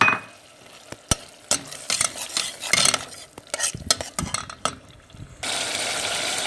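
Spice masala with tomatoes frying for chole, a spoon clattering and scraping in quick irregular strokes against the pan over sizzling, ending in a steady loud hiss of frying.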